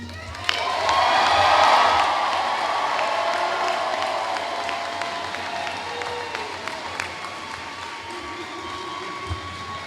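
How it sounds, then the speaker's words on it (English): A commencement crowd in a large hall applauds its graduates, with a loud swell of clapping and cheering that peaks early, then settles into sustained applause scattered with whoops and individual sharp claps. "Give these graduates your applause."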